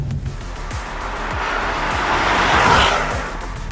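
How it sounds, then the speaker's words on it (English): Mercedes-AMG E63 S 4MATIC+ accelerating hard on an expressway, heard from inside as a steadily building engine roar with wind and road rush, swelling louder over a few seconds with no talking. "that's about 4 seconds of very intense acceleration in this E63 S."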